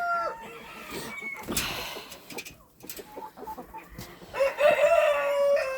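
Australorp chickens cluck and chatter nearby, then a rooster crows loudly near the end over a busy farmyard background.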